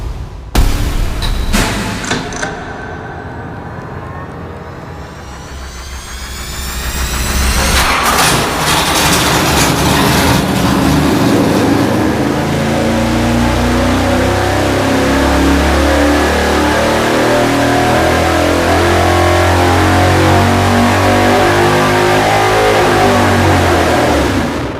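A Chevy 350 V8 on a dyno cranks and catches with a few sharp bangs, then rises into a loud, sustained rev that holds at high speed with a heavy, throaty roar.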